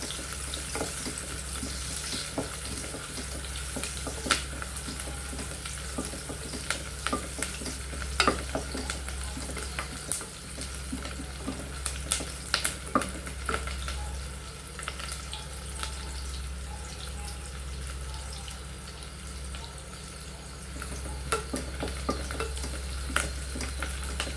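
Small onions and garlic frying in a pan for mutton biryani, a continuous hiss with scattered crackles and occasional stirring scrapes over a low steady hum, no voices.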